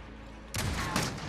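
Gunfire in the shooter Call of Duty Modern Warfare: a sudden loud burst of rapid shots cutting in after a quiet moment, with a second sharp crack close behind.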